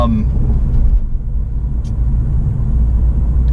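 Porsche 997 engine starting after sitting on a trickle charger, settling into a loud, steady low rumble up close, continuous throughout with no talk over it.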